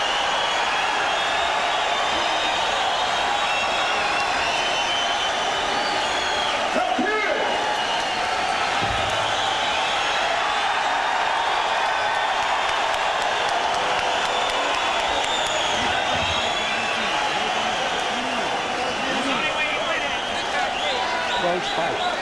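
An enthusiastic hometown crowd roars continuously at a Camacho versus Haugen boxing title fight, a loud, dense wall of cheering heard from within the arena under a commentator's voice throughout.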